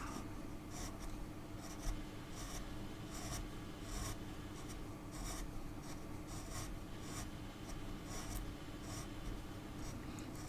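A wood gouge carving a wooden dragon sculpture, giving close, rapid scraping and shaving strokes in short repeated bursts, with no voices.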